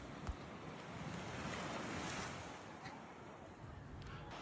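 Sea waves washing onto a beach in Phuket, Thailand, a continuous broad surf rush rising and easing over a few seconds, with wind buffeting the microphone and no talk.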